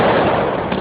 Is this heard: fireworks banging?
yes